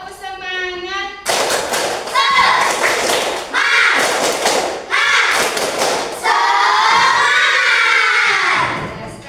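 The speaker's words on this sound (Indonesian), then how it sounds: "Terus tepuk semangat, tepuk semangat." Schoolchildren in a classroom clap together in rhythm during the tepuk semangat clapping game, bursts of loud, close hand claps and thumps alternating with children's voices and chanting.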